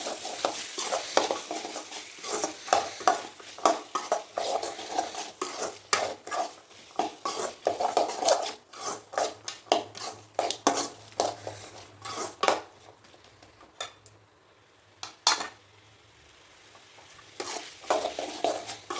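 Carrots and beans coated in masala are stirred in a pan for veg biryani, a rhythmic run of spoon scrapes and metal clinks over a gentle sizzle, close by, pausing briefly before resuming.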